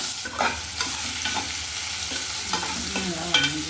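Boiled potatoes tipped into a hot pan and stirred for a potato and pea curry, giving a close, steady sizzle broken by scraping spoon strokes and a couple of sharper knocks, with no one speaking.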